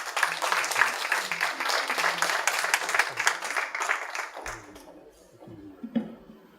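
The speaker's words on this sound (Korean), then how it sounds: "김미진 사무총장님께 큰 박수로 환영 부탁드립니다." Dense, sustained applause from a seated audience at a Seoul meet-up, welcoming a guest speaker to the stage; steady clapping for about four seconds that then stops abruptly, leaving a voice speaking into a microphone.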